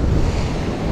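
Ocean surf and strong wind at a saltwater fishing beach roar loudly and continuously, with heavy wind buffeting on the microphone and no speech.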